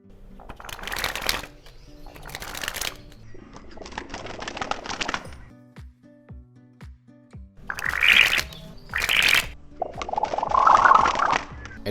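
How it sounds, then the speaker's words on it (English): Playing cards sprung from one hand to the other make several sharp, fluttering riffles in close succession, each a brief burst of rapid card flicks, with quiet pauses and faint background sounds between them. "check out the sound of the card spring"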